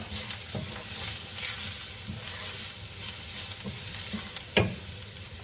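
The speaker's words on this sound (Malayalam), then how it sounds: "എന്നിട്ട് ഇത് നന്നായിട്ട് വഴറ്റുക." Fish peera masala with green chilies sautéing in a pan, a steady, close sizzle broken by clicking stirs and scrapes, one sharper tap near the end, no voices.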